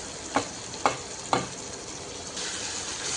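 A spatula knocks three times against a pan while mutton egg masala with turmeric, masala and chili powders is stirred and fried, over a steady sizzle that swells near the end.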